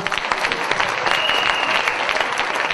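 A church congregation claps together for the Lord in a dense, steady burst of applause that fills the room, loud and close, with no speech over it.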